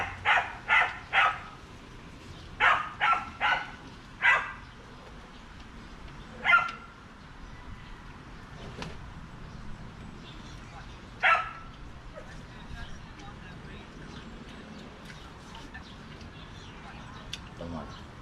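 A dog barks in short bursts of three or four, then sporadic single barks, moderately near, with quiet background murmur.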